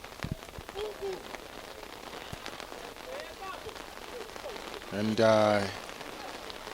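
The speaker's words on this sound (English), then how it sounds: "rain starts to fall here at Old Hararians" Heavy rain pours onto the pitch during an under-20 rugby league match at Old Hararians in Harare, a dense steady hiss of drops with a few sharp knocks and a commentator's voice briefly cutting in near the end.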